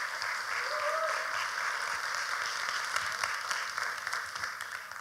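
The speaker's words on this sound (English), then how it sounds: "Please give a round of applause for the entire crew and Mariana" A conference audience at a developer event in Skopje gives a sustained round of applause for the crew and presenter, a soft, even patter of many hands heard from a distance.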